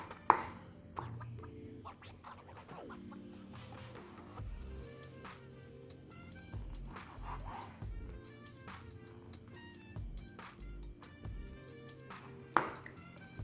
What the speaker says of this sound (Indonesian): Lalu kita potong-potong atau cincang kasar aja ya.